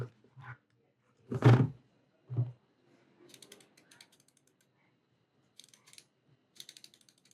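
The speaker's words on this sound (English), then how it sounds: "that ratcheting, that's pretty nice" An LTT transparent screwdriver ratchets in a few sharp close clicks, then lighter rapid clicking bursts with quiet gaps between them.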